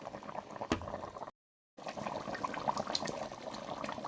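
Okra simmering in a pot with ground akpi seeds and vegetables in sauce, a soft continuous bubbling with a brief break partway through, quiet and close.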